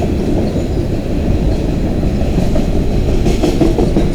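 A freight train with a distributed power locomotive rolls steadily through a rail yard, loud and close, with continuous wheel rumble and rhythmic clickety-clack throughout.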